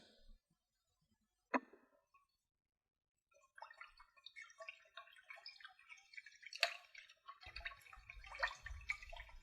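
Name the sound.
rinsing rice with water in a rice cooker pot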